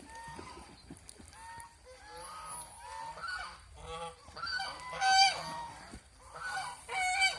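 Ducks at a duck farm in Mohanganj calling: overlapping honking quacks from a flock at moderate distance that grow louder and busier toward the end, with no speech.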